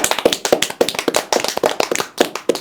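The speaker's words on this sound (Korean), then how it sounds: "박수 한번 치면서 보겠습니다" Rhythmic hand clapping from a small group at a Korean political talk show, close and loud, steady sharp claps at a lively pace with no talk over them.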